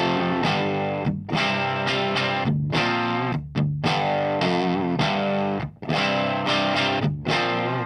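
Electric guitar played through a cranked 1974 Hiwatt amplifier on its normal volume channel, loud overdriven chords strummed in rhythmic bursts with brief gaps, dense and harmonically rich.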